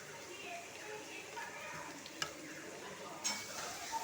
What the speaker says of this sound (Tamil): தேவையான அளவு உப்பு போட்டுக்கலாம் நல்லா கிண்டி விட்டுக்கலாம்